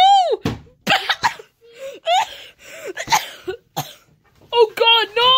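A character coughs in a Super Mario cartoon: several harsh, close bursts mixed with cartoon voices and other vocal noises.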